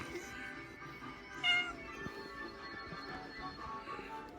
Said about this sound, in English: Oh, here's Pete the cat.